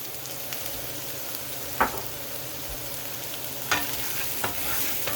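Garlic sizzles in a pan for shrimp fried rice, a steady low frying hiss broken by a few sharp scrapes of stirring, with no talking.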